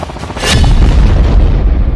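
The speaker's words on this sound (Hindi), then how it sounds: "बड़े धमाकों के लिए यूक्रेन हर रोज 5 से 6 हजार तोप के गोले फायर कर रहा है" A heavy artillery shell explodes in wartime Ukraine: a loud, deep boom bursts in around the half-second mark and leaves a dense, sustained rumble that fills the rest of the moment, with no voices.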